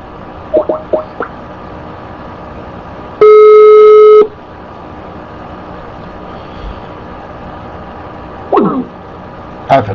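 A phone call tone sounds as one steady electronic beep lasting about a second while a number is called again, loud and close against low background noise, with brief voice fragments before and after.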